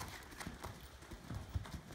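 Horse hooves clip-clopping at a slow, collected canter in Elgin, Texas, a rhythmic series of soft thuds with a faint murmur of voices in the background.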